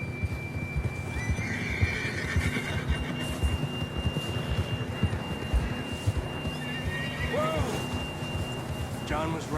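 A horse in Red Dead Redemption 2 lets out a clear neigh and whinny over steady clip-clop hoofbeats while being ridden, with a low ambient rumble throughout and brief speech.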